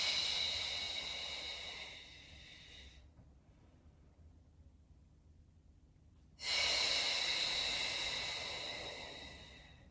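Slow, controlled breathing during a beginner Pilates exercise: a long, soft airy exhale that fades, a pause of near silence, then a sudden fuller breath of air, close and fairly quiet, with no talking.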